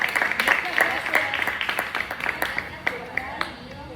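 Applause from an audience at a gathering, with a steady patter of clapping throughout and people talking over it.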